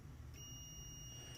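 Steady electronic beep from a multimeter on continuity test across the heating element of a BUNN coffee machine, a thin high tone running nearly the whole moment over low background hum.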